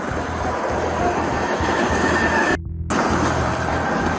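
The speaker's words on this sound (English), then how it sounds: "patrol car was just hit by a train" A train rumbles past loud and close after striking a police patrol car, a heavy continuous roar with wheel noise and a brief dip in the middle.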